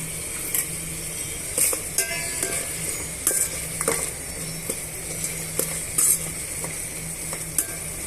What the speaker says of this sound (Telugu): బిర్యానీ ఆకు మరాఠా మొగ్గ స్టోన్ ఫ్లవరు చెక్క లవంగా బిర్యానీ మసాలా అంతా కూడా యాడ్ చేసుకొని బాగా వేగనిద్దామండి